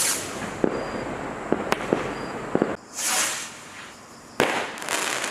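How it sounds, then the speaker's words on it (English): Tesco Astro rockets burst outdoors in a string of sharp pops and crackling bangs, with a hissing launch whoosh midway and a final loud crack, the crackle fairly thin rather than dense. "Yeah, there's a little bit of crackle in the bursts."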